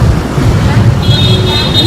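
Low rumbling wind buffets the microphone steadily outdoors near the Santo Niño and Plaza Independencia, with a voice talking under the noise and a faint high tone partway through.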